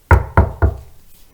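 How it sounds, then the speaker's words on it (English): Three firm knocks on a bedroom door in an even, quick rhythm, loud and close, each with a short hollow wooden ring that fades into quiet afterward. "there came a knock at the door"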